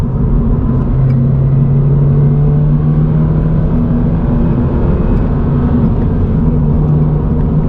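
Steady, loud engine drone from a 2022 Subaru BRZ in 4th gear, with a low rumble throughout, holding a fairly even pitch as the car cruises along.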